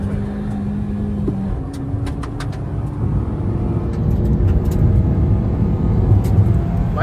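A loud, steady car engine drone from a Maruti Swift or Toyota Glanza in a drag race, slowly building in intensity, with no talking over it.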